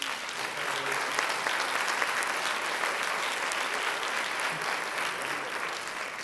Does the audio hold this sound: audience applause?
yes